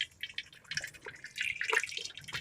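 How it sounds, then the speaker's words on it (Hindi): Homemade soy milk is poured slowly through a cotton cloth to strain it, making soft, faint trickling and dripping liquid sounds that run unevenly for a couple of seconds. "और इसको धीरे धीरे हम डालेंगे इसमें और छान लेंगे।"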